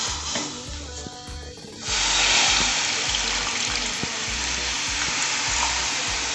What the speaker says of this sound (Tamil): இப்போ நான் ஒரு 2 கப்பு தண்ணி ஊற்றுறேன்.